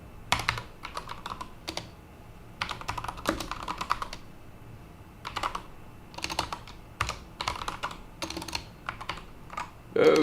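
Typing on a computer keyboard during live programming on a Linux machine, close and clear, in quick bursts of clattering keystrokes separated by short pauses, with no talk.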